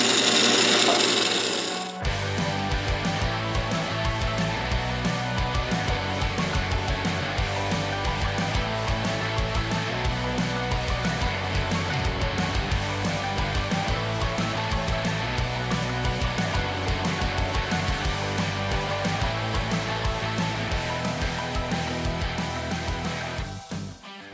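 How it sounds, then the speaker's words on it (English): An automated hacksaw grinds steadily through a big rock, a dense mechanical rasp with a rapid repetitive stroke that runs loud and unbroken for over twenty seconds after a brief starting sound. "We have the automated hacksaw here, big, like for big rocks."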